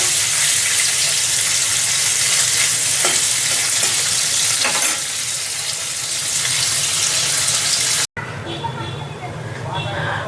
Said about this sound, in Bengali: এবার পনিরটাকে একটু হালকা ভেজে নেব।